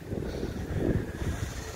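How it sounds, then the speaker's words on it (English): Wind blows outdoors and buffets the microphone with low gusty rumbling that swells and fades over a couple of seconds; no voices. "it's kind of windy out here."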